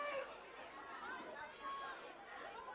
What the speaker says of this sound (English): There's a great crowd here tonight. There's just an enormous buzz.